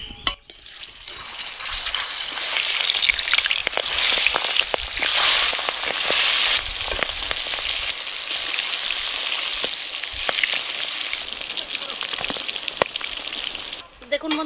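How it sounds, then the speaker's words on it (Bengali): Boal fish frying one by one in hot oil in a kadai, a loud continuous sizzle and crackle that flares up after a brief quiet opening and holds steady before cutting off at the end. "এবার তেল গরম হয়ে গেছে, এবার আমি বোয়াল মাছগুলো দিয়ে ভেজে নেবো এক এক করে।"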